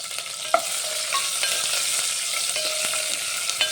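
Dried red chillies, green chillies and curry leaves sizzle in a hot tempering for dahi vada, a loud continuous frying hiss broken by a few sharp spoon clicks and stirring scrapes, with no talking.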